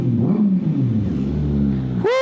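Kawasaki ZX6R inline-four sport motorcycle on a ridge road, engine droning steadily up close before a sharp rev climbs in pitch at the end.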